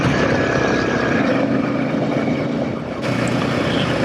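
Ibex 450 motorcycle riding a dusty trail, a loud, steady engine drone mixed with wind rush that dips briefly before resuming, with no talk.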